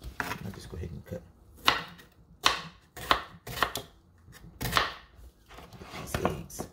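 A knife chops a halved potato on a cutting board, about seven distinct, fairly close cuts at an irregular pace, with a faint scrape between strokes.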